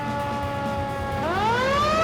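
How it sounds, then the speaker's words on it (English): Fire truck siren in the video game Farming Simulator 25, a loud steady electronic tone that sweeps sharply upward partway through, rising into a fast wail with layered harmonics over constant engine rumble. "I might as well turn on the sirens while we're at it."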